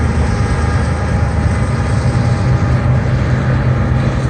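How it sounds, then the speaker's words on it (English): A unit freight train crosses the Big Four Bridge in Sidney, Ohio, giving a steady, loud rumble and roar of rolling cars that holds constant throughout with no voices. "It's like a unit train."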